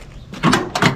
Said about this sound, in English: Door works great.